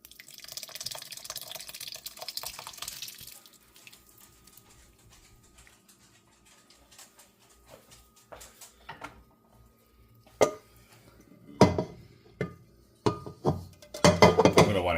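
Ricotta curds and whey are poured into a colander, starting with a soft liquid rush, then a quiet stretch of light drips and clinks before louder splashes and pours return near the end.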